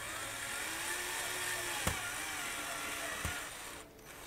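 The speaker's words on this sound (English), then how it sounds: "I can use a stepped drill to work it up to 6 millimeters." A power drill with a stepped bit whirs at a steady high pitch, grinding a pilot hole in a Korg Volca Modular synth up to 6 mm, with two sharp clicks and the motor easing off at the end.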